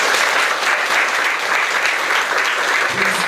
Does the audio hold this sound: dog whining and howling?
no